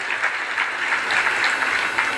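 An audience at a religious gathering in Una, Himachal Pradesh, claps in a brief, fairly soft patter of overlapping hand claps that holds evenly for a couple of seconds.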